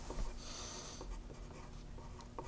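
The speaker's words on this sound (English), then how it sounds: "I'll write grocery store." Pen or pencil writing words on paper, quiet scratchy strokes running steadily with brief pauses between words, close and soft against faint room noise.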